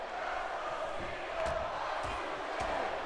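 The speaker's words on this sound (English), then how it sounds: "You hear the crowd split 50-50. Chants of "Let's go Cena," Y2J." A steady arena crowd roars in the WWE 2K17 video game, its dense wash of voices swelling slightly with a few sharper bursts, loud and continuous throughout.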